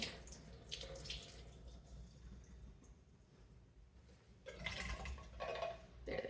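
Liquid from canned carrots drains into a sink in short splashing pours, one near the start and a louder, longer run toward the end, with quiet pauses between and no talking.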